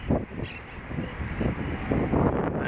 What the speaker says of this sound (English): the wind is fucking crazy today